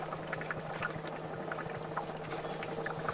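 Water drips and gurgles inside a homemade plastic free-energy water pump, making a faint, irregular patter of small splashes and bubbling, close and alone.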